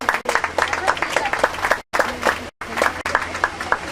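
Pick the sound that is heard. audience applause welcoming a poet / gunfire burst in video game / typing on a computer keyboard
audience applause welcoming a poet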